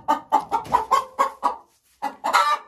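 A hen clucks after laying an egg: a quick run of loud, close, rhythmic clucks, a short pause, then a couple more rising clucks.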